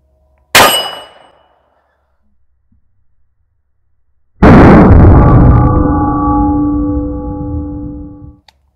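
Two loud .38 Special revolver gunshots some seconds apart. The first is a sharp crack that fades fast, and the second booms with a long ringing tail.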